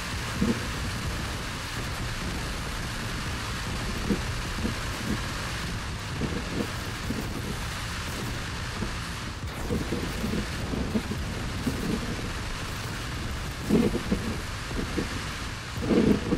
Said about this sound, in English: The storm is on us.